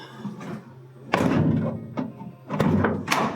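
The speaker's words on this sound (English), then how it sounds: "You guys go in there and we'll see how the door shuts." A van door slams shut twice, close and heavy, each thud followed by brief rattling, with quieter handling noises between the impacts.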